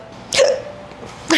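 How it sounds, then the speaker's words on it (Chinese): Two sharp, close hiccups roughly a second apart, each a quick gulping burst standing alone. "怎么开始打嗝？"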